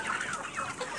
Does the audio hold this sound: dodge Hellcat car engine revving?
no